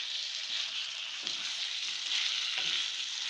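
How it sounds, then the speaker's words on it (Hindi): Mutton pieces fry in a pan, producing a steady bright sizzle with faint crackles and a few soft stirring bumps, close and even throughout. "इसका कलर गोश्त का कलर तब्दील हो रहे तक इसे भूनेंगे।"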